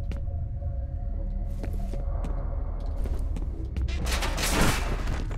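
Gunfire and explosions from the shooter game F.E.A.R. rattle in dense bursts across the clip, building to a louder, noisier blast near the end over a steady low rumble.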